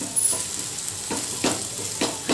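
Maharashtrian green chili kharda sautés in hot oil in a pan, with a steady bright sizzle broken by several scraping stirs of a spatula at irregular intervals.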